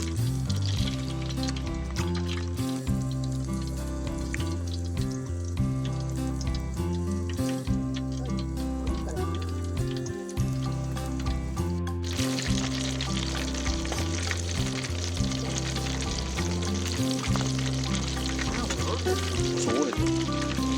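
Cheese kushikatsu skewers deep-fry in hot oil at a campsite, a continuous bubbling sizzle that grows brighter partway through and runs under steady background music.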